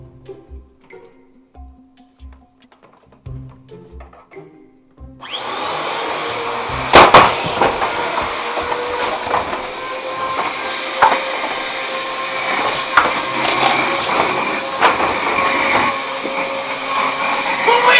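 Luigi's vacuum in the game Luigi's Mansion 3 switching on after quiet clicks, then a loud, continuous whirring drone that holds steady with small bumps and rattles throughout.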